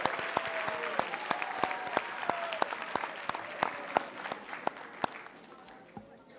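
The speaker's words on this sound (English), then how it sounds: "Let's give them a big round of applause." A round of applause for students at a school board meeting: scattered, distinct hand claps from a modest room of people, steady then thinning out toward the end.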